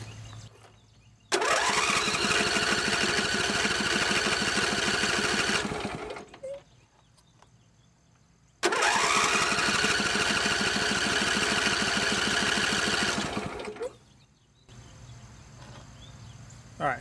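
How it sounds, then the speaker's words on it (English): Engine cranking on the stock original fuel pump in two loud, sustained bursts of roughly five seconds each, separated by a quiet pause, with no voices. "So I'm going to crank this thing for, I'm going to do 2 5-second blasts and see how much fuel we get out of it."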